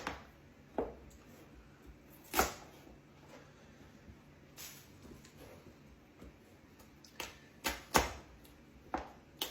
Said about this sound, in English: Most of this video is going to be chopping and whittling stuff up